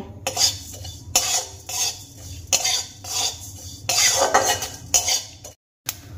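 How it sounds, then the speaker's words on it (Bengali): Whole spices, including fennel seeds and cardamom pods, are dry roasted in a pan, stirred with a utensil that scrapes and clatters in repeated bursts. Faint sizzling runs underneath, with no voices. "एबारे गोटा मशलागुलोके खूब भालो करे आमी भेजे नेब।"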